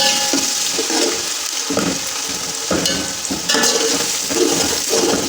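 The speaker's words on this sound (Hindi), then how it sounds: "इसमें अब हम लहसुन अदरक का पेस्ट डालेंगे, थोड़ी देर इसको फ्राई करेंगे।" Garlic ginger paste fries in a pan for matar pulao, giving a loud, continuous sizzle with stirring scrapes that rise and fall, close up and with no voices.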